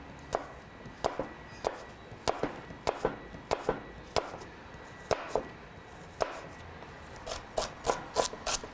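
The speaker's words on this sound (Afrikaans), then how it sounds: "So hom gaan ek dieselfde dikte sny as die fennel." A knife slices through a crisp Pink Lady apple on a board, sharp crunchy cuts in an uneven rhythm that quickens toward the end, close and clear with no talk.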